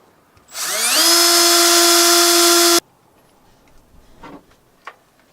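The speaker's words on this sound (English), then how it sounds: "I'm basically going to drill some holes in the boards right here" A power drill whines loudly at high speed for about two seconds while drilling holes in wooden boards, then stops, followed by a few faint clicks and knocks.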